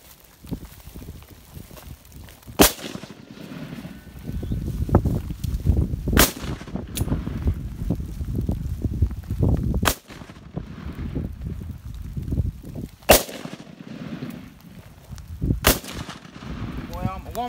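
Sharp, separate shots from a Draco pistol crack out about six times at irregular intervals, loud and close, over steady outdoor wind noise and a murmur of voices.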